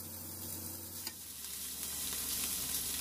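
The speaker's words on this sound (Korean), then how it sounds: "달궈진 팬에 구워요." Asparagus wrapped in pork belly rolls sizzling in a hot frying pan with a little oil, a steady close hiss and crackle with a brief stirring clack early on.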